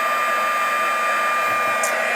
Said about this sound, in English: I hold my heat gun, as you can see, pretty close